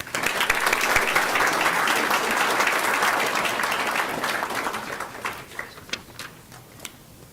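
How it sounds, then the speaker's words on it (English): A school board meeting audience applauds a student award recipient, dense steady clapping filling the room for several seconds before thinning out into a few scattered final claps. "Please join me in a round of applause for Zing Winbai."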